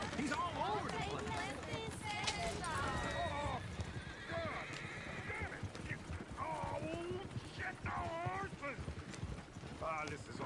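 A horse in the video game Red Dead Redemption 2, with hooves clip-clopping and repeated whinnies and neighs, close and busy, while people talk over it.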